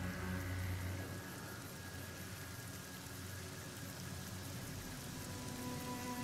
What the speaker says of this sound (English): It rained again?